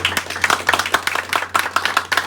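Audience clapping at a formal institutional ceremony honoring an outgoing director general, a burst of scattered handclaps with an irregular, lively rhythm, fairly close and steady for a couple of seconds over a low background hum.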